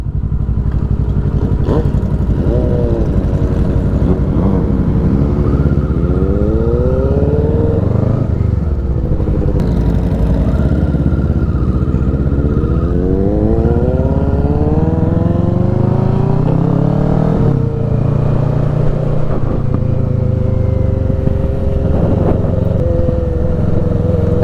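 Motorcycle fitted with a Yoshimura exhaust, ridden hard: loud, continuous engine roar rising and falling through repeated revs and gear changes, with a sharp popping exhaust note close by.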